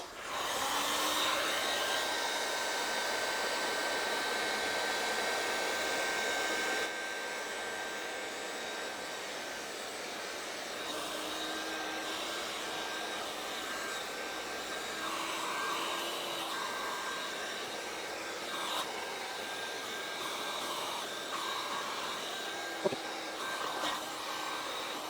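Close, continuous roar of a heat gun warming the paint on one side of a 19-year-old Volvo, loud at first, then settling to a slightly softer steady whoosh with small fluctuations as it moves across the panel.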